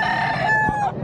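At a gamefowl market, a rooster lets out a short, loud crow close by, its call ending abruptly, with faint market noise beneath.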